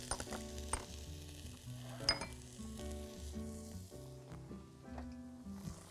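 Spices such as cinnamon, cardamom and nutmeg stirred with onion in a sizzling pot: steady frying hiss with scraping spoon strokes and occasional light clinks of metal against the pan, close and moderately quiet.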